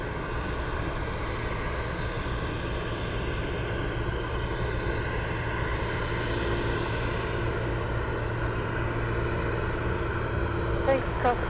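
A UPS cargo jet, flight 109, touching down at Anchorage airport, its engines a steady broad roar held at constant loudness throughout, with talk running over it.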